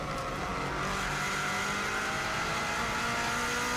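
A Subaru WRX STI engine pulls hard up a hillclimb course on the Isle of Man, a loud steady droning roar heard from inside the car, sustained without a break.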